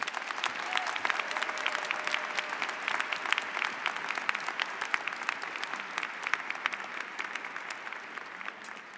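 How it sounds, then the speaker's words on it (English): Dense, sustained applause from a large audience at a university psychology commencement ceremony, steady and continuous throughout with no speech over it. "Please join us in a hearty round of applause."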